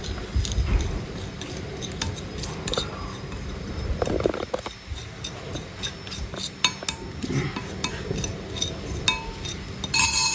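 A spoon stirs pepper into a bowl while a Banjar scraped-cucumber dish is prepared, giving repeated light clinks and taps against the bowl with soft scraping between them, close by over several seconds.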